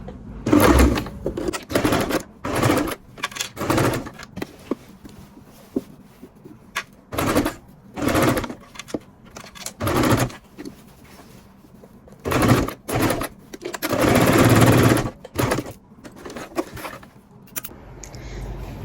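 A sewing machine sews the crotch seam of men's trousers, stitching it twice for strength, in a series of short loud bursts of rapid clatter separated by pauses, close by.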